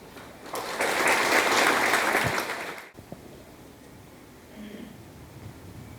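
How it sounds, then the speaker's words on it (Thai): Applause from a seated audience after a ribbon cutting at a formal ceremony, a loud burst of clapping lasting about two and a half seconds, then quiet room tone. "ท่านตัดก็ปรบมือให้เป็นสัญลักษณ์ว่าเราได้ร่วมพิธีนี้โดยพร้อมเพรียงกัน"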